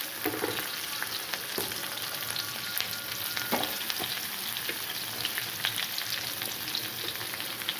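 Onions sizzle and crackle steadily in hot oil with curry leaves in a pan for a gram-flour egg curry, a close, continuous frying hiss with occasional stirring scrapes and pops.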